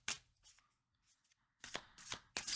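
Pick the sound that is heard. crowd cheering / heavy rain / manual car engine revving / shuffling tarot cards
shuffling tarot cards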